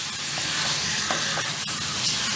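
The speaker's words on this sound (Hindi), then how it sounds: "अब हम इस स्टेज पर डाल देते हैं टमाटर और इसको भी बहुत ही अच्छे से इन सब के साथ में मिक्स कर लेते हैं" Tomatoes stirred into spices frying in a pan for chicken curry give a steady, close sizzle with soft scraping and stirring clicks throughout, with no talking.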